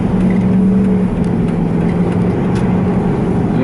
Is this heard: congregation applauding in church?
no